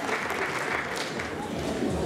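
Applause from the crowd at a men's physique bodybuilding championship in Baden-Württemberg, sustained steady clapping throughout with an announcer's voice talking over it.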